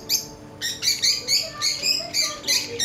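A small green bird in a pet shop at Lulu Mall in Bahrain chirps in a quick series of sharp, high tweets, close and clear, repeating at a steady pace.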